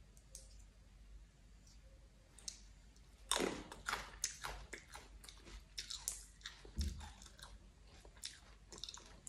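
Raw phoenix eye nuts (Sterculia) being chewed up close: a run of crisp crunching bites and wet clicks starts suddenly, then continues as steady, close mastication with no talking.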